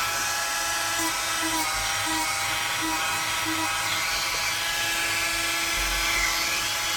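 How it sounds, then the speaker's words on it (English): A Dremel rotary tool whines steadily and continuously while working on a Nordic pauldron armor piece, a high-pitched motor tone that holds at an even level for the whole stretch with no clear pauses. "What with the Dremel flicking around"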